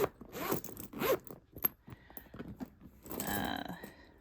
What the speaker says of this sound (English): Zipper in the front is still nice and smooth.